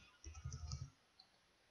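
A quick run of soft keystrokes on a computer keyboard as a password is typed, clustered in under a second, followed by one faint isolated click in a quiet room.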